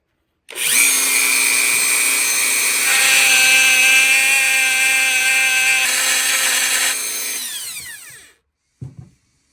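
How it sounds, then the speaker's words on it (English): A power drill whines steadily for several seconds at close range, drilling out a pin on a vintage Imperial Boy Scout pocket knife, pitch shifting slightly under load, then spins down and stops; a brief clatter follows. "I had to drill it out on the back side."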